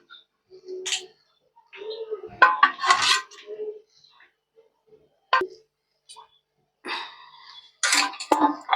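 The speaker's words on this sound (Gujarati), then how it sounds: "તો પેલા તો આપણે તવી મૂકી દઈશું." A flat tawa griddle pan is set down on a kitchen stove, giving a few sharp metallic clanks and scrapes separated by quiet gaps, with some speech in between.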